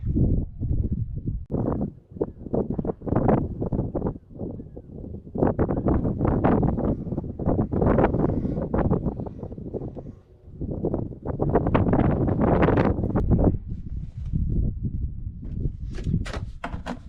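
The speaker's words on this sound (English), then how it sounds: "a good time for a nice gust of wind." Gusty wind buffets a microphone outdoors, a loud, rough, low rumble that surges and fades in uneven waves, with faint knocks mixed in.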